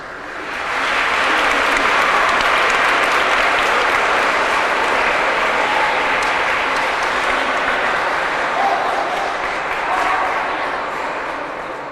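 Sustained audience applause fills a hall after a speaker from the Acadèmia Valenciana de la Llengua addresses a large crowd, a dense steady wash of many hands clapping that swells quickly and holds at full strength with faint murmurs beneath.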